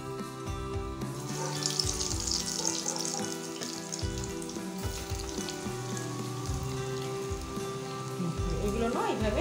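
Egg leg pieces fry in hot oil with a steady, dense crackle and bubbling hiss that continues unbroken throughout, close and fairly loud, with faint low background tones underneath.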